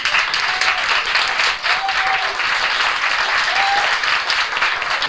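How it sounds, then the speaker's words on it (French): Studio audience claps loudly for a French singing act in 1988, with a steady unbroken wash of applause throughout and a few faint tones beneath it. "qu'on applaudit très fort"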